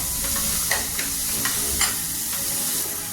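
A spoon stirs sautéed tomatoes in a hot pan, giving a steady sizzle broken by several soft scraping strokes, close and alone.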